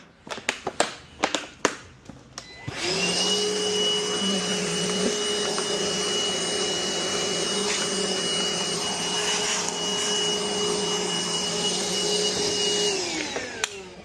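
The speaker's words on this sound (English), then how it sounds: "Got the old vacuum." Vacuum cleaner switched on in a workshop while a Stihl HT131 pole saw gets a new carburetor, a loud steady whirring drone running about ten seconds after a few handling knocks, then winding down.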